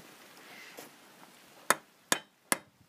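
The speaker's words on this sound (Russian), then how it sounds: "Аккуратно забиваем." A wheel hub bearing is tapped into place on an Oka car without a press, three sharp metallic hammer blows ringing out at an even pace after some quiet handling noise.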